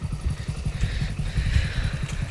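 A motorcycle engine idles nearby in the Gir forest with a low, rapid, throbbing putter that holds steady throughout.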